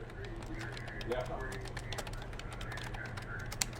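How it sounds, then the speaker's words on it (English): Soft rapid clicks of typing on a computer keyboard run under a voice that talks over them, with a faint steady hum behind and one sharper tap near the end. "I'm just typing this up as we go here"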